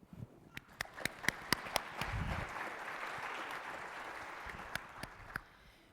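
Faint, thin applause from a conference audience for the day's speakers, a handful of sharp individual claps standing out over a soft spread of clapping that fades toward the end.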